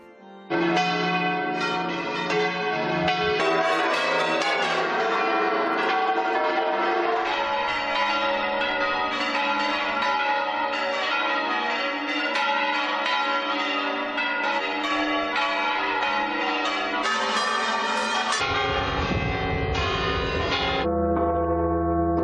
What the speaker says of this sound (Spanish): El repique de campanas ha llenado el silencio por la ausencia de pasos